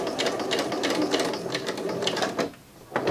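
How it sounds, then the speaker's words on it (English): A sewing machine stitches a Christmas stocking seam, running in quick bursts back and forth as it reinforces the seam, close and clear, pausing briefly before starting again. "we're going to backstitch a little bit again just to reinforce it"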